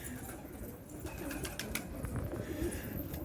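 Pigeons kept by a fancier, including red-skinned and black-and-white varieties, coo in a soft, steady low murmur through the clip, with a few faint chirps above and no talk.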